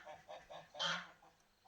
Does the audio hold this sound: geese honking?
yes